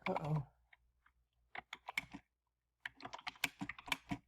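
Bursts of typing on a computer keyboard while a document is written, clusters of quick close clicks separated by short pauses.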